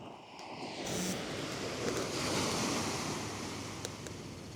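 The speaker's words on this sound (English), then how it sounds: "Listen to the waves." Atlantic Ocean waves crash onto a beach in a broad, steady roar of surf, with wind buffeting the microphone at the start. The wash swells and sustains, loud and near, with no talking.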